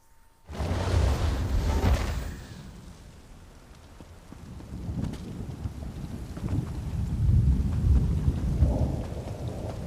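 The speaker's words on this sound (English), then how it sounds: "And now it's raining." Steady rain pours down in The Elder Scrolls Online: Dragonhold, with deep rumbles of thunder rolling through, swelling and easing over time, with no voices.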